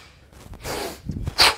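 A person imitates forceful nasal breathing: a couple of sharp sniffs through the nose, ending in one loud, hissing snort.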